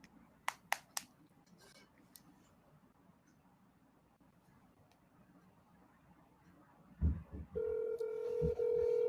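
Phone ringing over a loudspeaker arrives near the end as a loud sustained electronic ring tone, after a quiet stretch with a few sharp clicks and taps.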